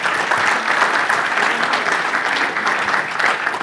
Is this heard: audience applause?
yes